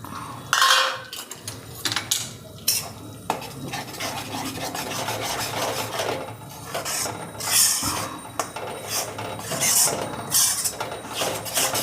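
Flour roasting in hot ghee for Gujarati adadiya pak, scraped and stirred with a metal spoon against the pan, giving close, continuous rubbing and clinking with sharper bursts throughout.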